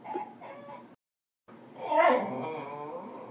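A dog growling at its own reflection in a mirror, with low rumbling growls and whiny vocal sounds, close and fairly loud, briefly stopping before a longer, rising growl-whine.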